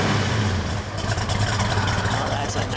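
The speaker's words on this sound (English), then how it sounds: "that's a nice loping cam sound" A 1970 Ford Mustang Boss 302 idling with a loping cam, its deep uneven exhaust note rumbling steadily and close throughout, with people talking faintly over it.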